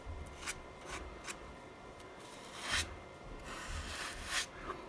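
Filler is spread with a scraper over cracks on a crashed Flightline Corsair radio-controlled model airplane, producing short repeated scraping strokes at close range, with no talking.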